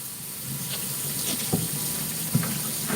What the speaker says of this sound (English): Let me go ahead and finish these dishes here.